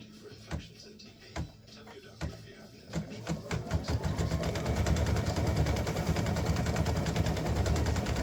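An embroidery sewing machine stitching a heart design starts with a few spaced needle thumps, then settles into a steady, dense mechanical chatter that grows louder and continuous.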